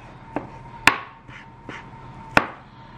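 A knife cuts food into thin slices on a cutting board, giving a few sharp, separate chops at an uneven pace, close and clear, with no speech.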